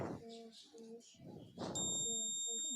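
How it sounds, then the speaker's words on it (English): A steady electronic beep from a digital multimeter on continuity range, testing a fan capacitor, sounds twice, the second one held longer, with soft rustling and handling noises in between; close and fairly quiet. "in continuity range you can hear the beep"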